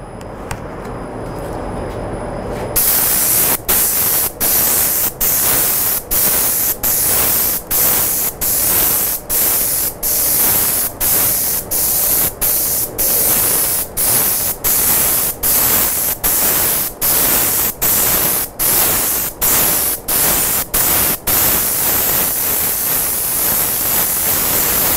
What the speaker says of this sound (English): You're then ready to put them in your spray gun, and off you go to your first color.